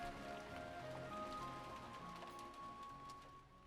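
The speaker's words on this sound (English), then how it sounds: "The rain had grown stronger." Steady rain in a video game patters softly and continuously, quiet and even, with faint sustained musical tones beneath it.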